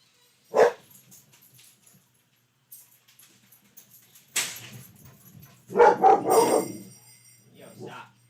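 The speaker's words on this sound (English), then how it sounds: "I have to grab my dog from outside. She barks and he barks." Dogs bark indoors in a few separate bursts, one short sharp bark near the start and a louder cluster of barks later, with quiet gaps between them and some low background noise.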